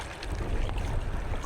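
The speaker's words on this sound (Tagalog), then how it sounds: "Malaki na ang alon mga idol." Big sea waves wash around a small boat late in the afternoon, a steady close rushing of water with wind buffeting the microphone and a low rumble throughout.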